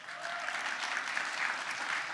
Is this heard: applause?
yes